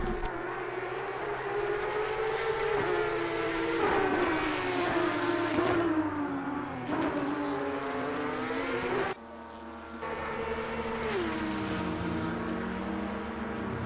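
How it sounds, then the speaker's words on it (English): Race car engine from the Assetto Corsa Competizione racing game at Imola, a loud continuous drone whose pitch climbs and dips through gear changes, with a brief drop near the end before it roars on again. "you really feel that engine making noise, getting that power out of it"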